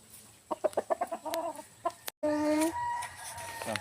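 A fighting rooster being prepared for a match clucks in a quick series of short, close calls, then gives a louder, drawn-out vocal cry after a brief gap.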